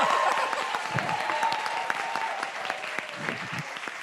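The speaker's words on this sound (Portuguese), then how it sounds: "Peraí, palmas. Tem que dar o tempo do aplauso." Audience applause at a literary talk, a steady wash of many hands clapping at moderate distance, sustained throughout without pause and with no one speaking over it.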